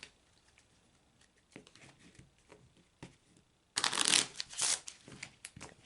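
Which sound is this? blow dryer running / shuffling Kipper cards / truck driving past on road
shuffling Kipper cards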